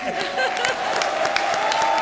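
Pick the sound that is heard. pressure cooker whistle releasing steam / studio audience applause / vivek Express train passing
studio audience applause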